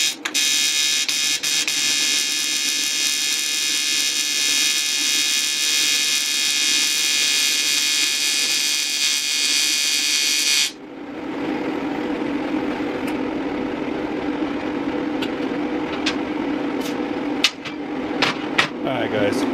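Aluminum practice pieces are welded for an intercooler setup, producing a loud, steady electric buzz that stops abruptly about halfway through. Shop noise follows, with a few clinks.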